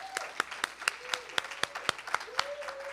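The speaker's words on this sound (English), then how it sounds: "give a little bit more applause to Melissa Wilkinson" An audience at a faculty presentation claps for presenter Melissa Wilkinson, a sparse, evenly paced run of distinct claps about four per second, fairly quiet, with a voice speaking over them.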